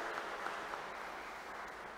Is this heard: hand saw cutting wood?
no